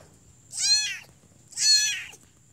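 A cat, mother of a new litter of three kittens, gives two clear, drawn-out meows about a second apart, close and fairly loud against quiet background.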